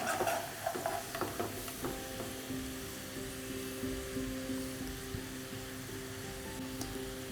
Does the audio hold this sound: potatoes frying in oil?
yes